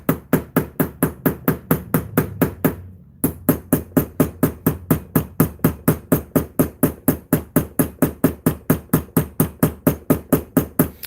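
A hammer strikes metal wire ear hooks for jewelry in a steady, rapid series of sharp close taps, dozens of blows with one brief pause.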